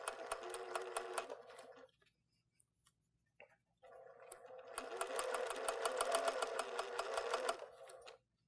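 A sewing machine runs steady stitches along quilt seams in two sustained bursts separated by a brief quiet pause, its fast rhythmic whir close and clear.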